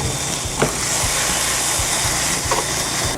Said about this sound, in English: Keep the pan on the stove, bud. Sizzle.